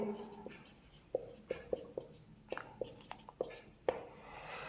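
Chalk or marker writing on a board during a geography lecture, a series of sharp taps and short strokes in irregular rhythm, close and moderately quiet, with a faint voice in the room.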